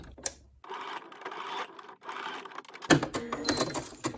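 A sewing machine stitches around a back welt pocket in a steady mechanical run of about two seconds, loud and close, then stops and gives way to handling clatter and small knocks.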